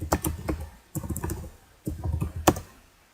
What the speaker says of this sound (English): Just going to quickly type it down here.